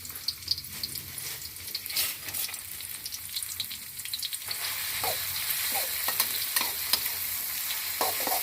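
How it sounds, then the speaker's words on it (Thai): Steady sizzling in a wok with repeated scraping and clattering strokes of a spatula as chili and garlic are stir-fried, close and continuous. "เราก็มาผัดผัดผัดผัดผัด"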